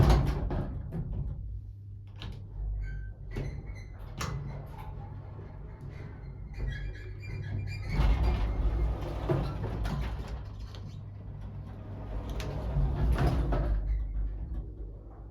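An Otis square Lexan traction lift, running rough, has doors that slide with a long grinding rumble and repeated high-pitched squeaks, heard up close inside the car.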